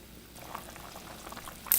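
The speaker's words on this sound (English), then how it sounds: "right now, simmer for 2 hours at least" Pork belly simmers in a pot of liquid with a faint, soft bubbling and gentle burbles, quiet and close, rising slightly at the very end.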